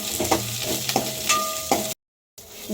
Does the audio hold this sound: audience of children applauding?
no